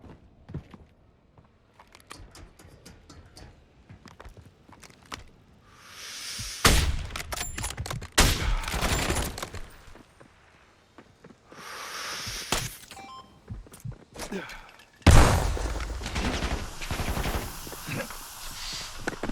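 Gunfire in the video game Warzone, scattered sharp shots and short bursts, some distant and some close, with louder clustered volleys between quieter stretches.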